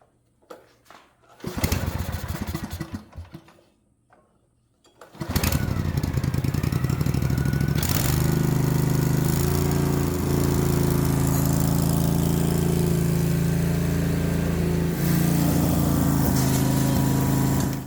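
A small carbureted engine with fouled plugs sputters, cuts out, then catches and settles into a loud, steady idle that runs on without a break.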